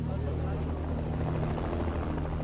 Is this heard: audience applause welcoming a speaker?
no